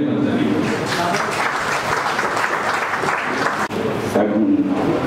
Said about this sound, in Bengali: তাই সকলের জন্য একবার জোরে হাততালি।